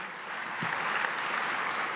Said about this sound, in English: Ladies and gentlemen, we can be more generous with the applause for this.